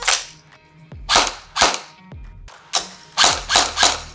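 A Jingji SLR V4 gel blaster fires semi-auto with blowback, producing a series of about eight sharp, snappy shots, each followed by a mechanical clack, loud and close with brief gaps between them.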